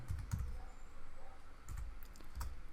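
Keys clatter on a computer keyboard in a few short quiet bursts separated by pauses, close by and alone.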